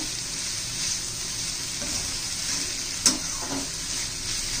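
Bitter gourd sabzi sizzles steadily in a pan, with soft scraping of stirring running through it and one brief sharp clink near the end.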